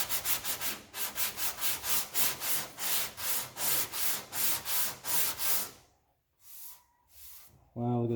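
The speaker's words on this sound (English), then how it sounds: "So now I'm going to sand a little bit everywhere again." Sandpaper is rubbed back and forth on the metal body panel of a 1969 B-body car in a quick, even rhythm of close strokes, then slows to a couple of separate passes before a louder noise at the end.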